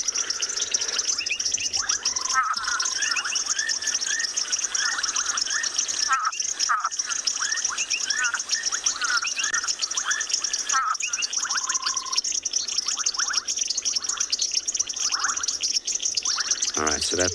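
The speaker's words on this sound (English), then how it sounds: "So this is the brown-backed tree frog." A brown-backed tree frog call plays from a phone outdoors on an evening safari, a series of short repeated chirping croaks set against a steady wash of insect and cricket noise, with faint voices now and then.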